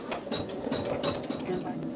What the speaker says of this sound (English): So let's start our quilting for step 24.